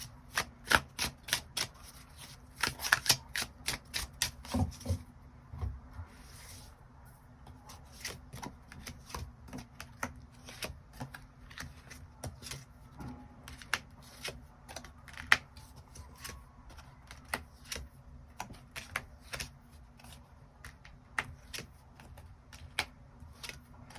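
Tarot cards being shuffled and drawn up close, bursts of rapid riffling and crisp snapping card flicks scattered across a long stretch, with quieter sliding between them.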